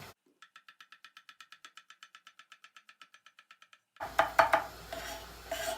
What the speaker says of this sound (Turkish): Şimdi buna şöyle bolca bir soğan doğrayacağız.